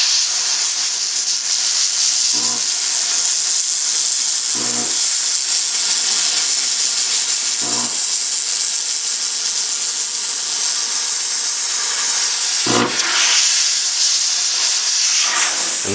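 A steam cleaner blasts a gun with a loud, continuous hiss lasting the whole stretch, close to the mic, broken only by a few brief low thumps and handling bumps.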